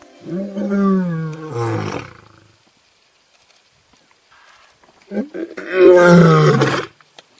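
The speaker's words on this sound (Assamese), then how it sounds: "সিংহ এটাৰ আচল চিঞৰটো হৈছে এইটো।" A real lion roars twice, each a deep, harmonic, full-throated call lasting about two seconds, loud and close, with a few quiet seconds between the two roars.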